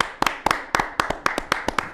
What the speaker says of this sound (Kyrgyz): Кол чабуулар алдында тосолобуз